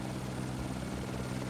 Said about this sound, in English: I think this helicopter is new to the game